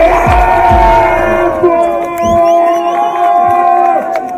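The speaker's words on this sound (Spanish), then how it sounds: "¡Un aplauso, gente! ¡Un aplauso!" Crowd at a Patrón Fest semifinal event in Gualaceo cheering and clapping, loud whoops and shouts over a busy, reverberant background with music-like tones.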